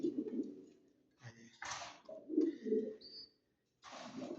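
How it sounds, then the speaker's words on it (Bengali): Pigeons coo in a newly built loft in Munshiganj in a few low, rounded bursts, with brief chirps and rustling between them. The birds sound close but fairly quiet, and a short silence falls near the end before the cooing resumes. "সেটা ভিতরে কবুতর আছে"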